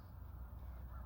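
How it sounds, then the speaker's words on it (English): Crows caw faintly outdoors on a calm day in nature, a few distant calls over a low, steady background hum with no talking. "Got the birds flying by."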